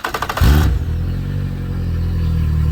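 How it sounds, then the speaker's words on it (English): Fuel-injected Yamaha outboard engine cranking over during a compression test, a loud burst of starter and engine churning that settles into a steady, close mechanical drone. "Click it one time, let the fuel injector run."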